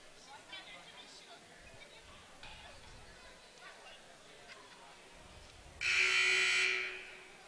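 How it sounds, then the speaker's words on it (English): A loud buzzer sounds in a high school basketball gym, one sustained blast lasting about a second after murmuring crowd chatter and a voice. "Buzzer sounds."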